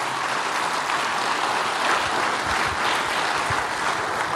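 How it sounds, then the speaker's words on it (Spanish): A church congregation breaks into sustained applause for the pastor, dense steady clapping filling the room evenly throughout. "Den un aplauso al Padre."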